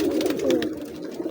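Close, low pigeon cooing rolls on steadily from loft birds, a soft warbling murmur with a few faint rustles above it.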